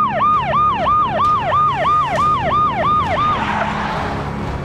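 Ambulance siren wailing in a regular up-and-down pattern, about nine quick cycles, loud and close over a low motor rumble, then cutting off and leaving traffic noise.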